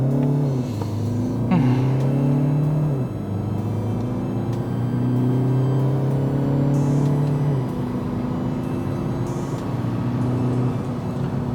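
A 2017 Volkswagen Arteon 2.0 TDI DSG R-Line diesel engine pulls hard and loud, its pitch rising through several gear changes with brief drops between shifts.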